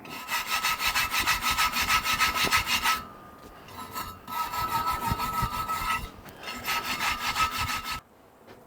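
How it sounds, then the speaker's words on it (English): A stainless steel wire brush scrubs aluminium in three long bursts of loud, rhythmic back-and-forth strokes, with short pauses between them. "Use a stainless steel wire brush."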